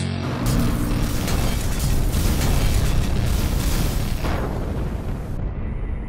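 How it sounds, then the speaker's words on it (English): A dense, continuous roar of explosion sound effects fills the whole stretch, loud and rumbling with crackling bursts and no pauses, with no speech over it. "Explosions."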